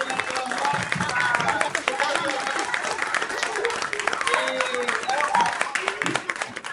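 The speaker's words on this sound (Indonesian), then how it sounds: "Kita tepuk tangan dulu dengan kelompok." A classroom group of students claps together in dense, continuous applause lasting several seconds, with scattered voices and chatter mixed in throughout.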